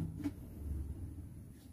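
A metal ring set upside down inside a kadhai of water in a home kitchen, giving a single brief clunk near the start followed by quiet room tone.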